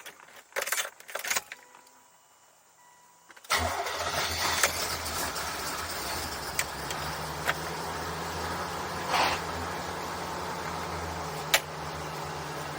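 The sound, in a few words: C4 Corvette engine starting and idling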